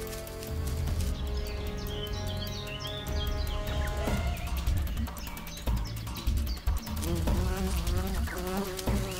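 A bee fights an ant at close range, its wings giving a loud, continuous droning buzz that wavers in pitch as it struggles, with brief higher chirps mixed in.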